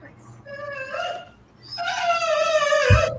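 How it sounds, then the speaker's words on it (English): A dog whimpers and yips in high, drawn-out whines, a short burst followed by a longer rising whine, fairly close and clear. "Yeah, you see my dog."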